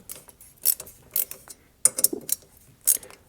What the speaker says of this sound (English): Now using the 5/32 hex key or driver system, you can snug down both of the screws.